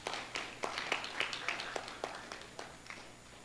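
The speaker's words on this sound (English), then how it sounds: "So let's give them a round of applause for that improvement there." Sparse applause at a board of education meeting, a small group clapping in distinct claps about four per second that gradually thin out and fade.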